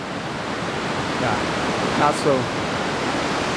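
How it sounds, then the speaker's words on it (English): Steady, dense roar of flash-flood water surging through Big Thompson Canyon near Estes Park, Colorado, a continuous wash of noise with a brief voice rising faintly above it midway. "I love the sound of water, but when it turns into a roar"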